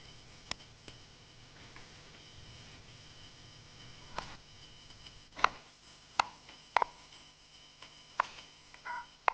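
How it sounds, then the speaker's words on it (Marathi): Knife chopping coriander leaves on a board while cooking, a quiet scatter of soft taps growing into sharper, closer clicks and chops toward the end. "मी थोडीशी कोथिंबीरही चिरून घेतो"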